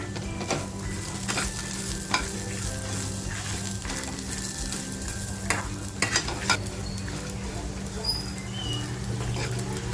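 Spices, grated coconut, onion, chilies, garlic and poppy seeds frying in a pan for a spicy mutton curry, with a continuous dense sizzle, a steady low hum, and scattered scrapes and taps of stirring.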